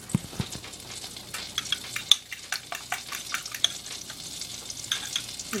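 Butter sizzles in a pan while eggs are scrambled, a steady close frying hiss broken by sharp scraping and stirring clicks.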